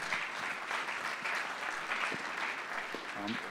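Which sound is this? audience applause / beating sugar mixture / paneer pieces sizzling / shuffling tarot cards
audience applause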